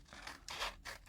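Scissors snip through paper for a craft tag folio, giving three or four quick, close, crisp cuts with short pauses between.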